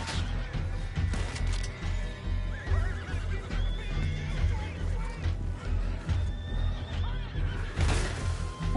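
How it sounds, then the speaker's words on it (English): Horses whinny and neigh repeatedly amid gunfire in Red Dead Redemption 2 Online, a busy, rumbling din with thuds and crashes, the cries rising over the clatter at several points. "All the horses are screaming and whining."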